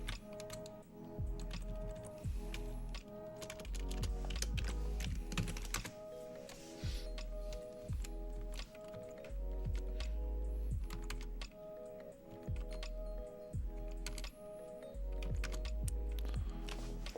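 Computer keyboard typing while editing a hosts file in a terminal, bursts of quick close keystrokes with short pauses over a soft steady background hum.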